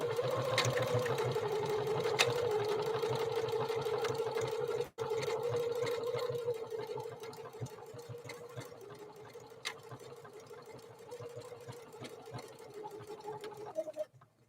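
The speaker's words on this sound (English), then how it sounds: "We're going to try stitch number 30 down this protected full grain leather." Necchi NE30 sewing machine driving stitch number 30 through protected full grain leather, a steady rapid mechanical whir with dense needle ticks running close and loud, one brief break near the middle, then slowing and stopping at the end.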